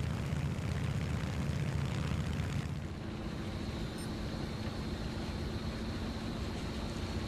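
A fighter plane's engine in a War Thunder dogfight drones steadily and loudly throughout, a broad continuous roar that shifts slightly in tone partway through, with no voices.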